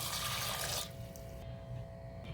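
Water poured into a pressure cooker holding soaked white corn and salt, a loud, steady splashing rush for most of a second before it drops to a quieter residual trickle.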